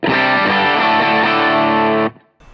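An electric guitar runs through a Lastlight drive pedal on a worship pedalboard, giving a thick, saturated overdriven tone. Sustained chords ring loudly, then cut off abruptly near the end.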